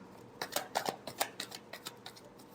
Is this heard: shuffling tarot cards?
yes